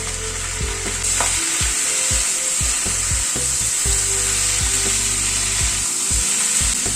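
Two diced tomatoes hit a hot pan of spices with Kashmiri red chilli powder for a thin chicken curry with papaya and carrot. The fat sizzles steadily and loudly while a spoon stirs, scraping and knocking against the pan.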